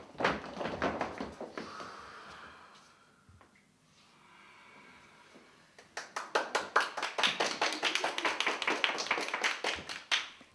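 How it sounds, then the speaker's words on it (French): A small group in a relaxation session claps together. The applause is close and fairly sparse, with distinct claps in a first burst, then a quieter pause, then a denser and louder round of clapping toward the end. "Applaudissements, ovations."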